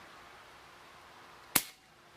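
A single sharp crack from a pump air rifle firing one shot, close and loud, rising suddenly from a quiet room and decaying quickly.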